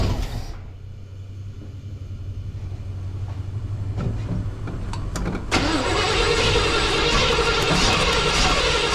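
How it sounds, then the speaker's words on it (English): A 1978 square-body pickup truck engine, stored for over ten years, turns over and catches around the half-second mark, then settles into a steady idle that rises in level near the five-and-a-half-second mark, close and loud throughout. "Now we know it cranks."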